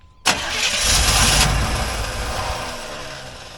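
A 1986 Chevrolet Suburban engine cranks briefly, then catches with a sudden loud burst and settles into a strong, steady idle that slowly eases in level.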